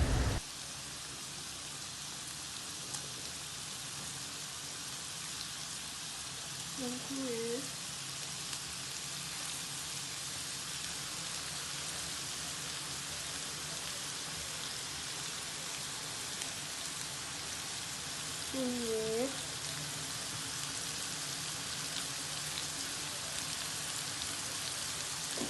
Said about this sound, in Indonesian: Dan ini proses penumisan bumbu yang udah digiling tadi.